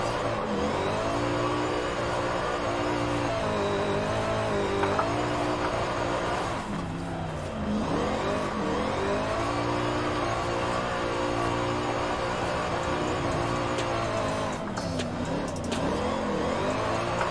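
A 1930 Bentley swapped to a 1000-horsepower V8 drifting in Forza Horizon 5, engine droning and revving continuously at high pitch with steady harmonic tone and brief throttle dips, loud and close throughout.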